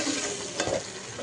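A spoon stirs chicken gravy frying in a pan, a brief scraping swirl over a steady, close sizzle.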